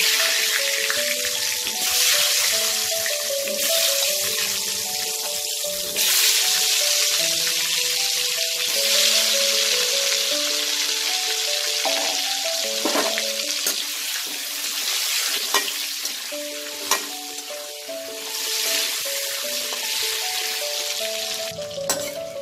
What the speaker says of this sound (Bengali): এবার আমি এই তেলে একটু নুন আর একটু হলুদ দিয়ে আলুটাকে ভেজে নেব।